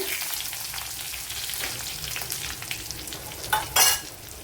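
Garlic cloves, six or seven, sizzling in hot oil in a pan for pineapple pulissery, a steady crackling hiss with a sharper spattering flare near the end.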